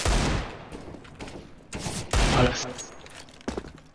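Gunfire in the video game CS:GO, several short bursts of shots in bunches over a few seconds, moderately loud with no speech.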